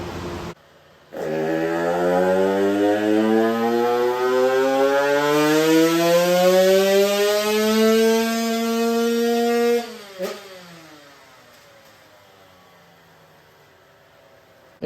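A Husky supermini motorcycle engine on a dyno rises steadily from idle to a loud, strained high-rev scream for about nine seconds, then snaps off the throttle and settles back to a low idle.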